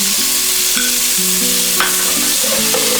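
Ginger garlic paste sautés in a pan for dal makhani, making a loud, continuous sizzle with stirring noises over a soft melodic tune in the background.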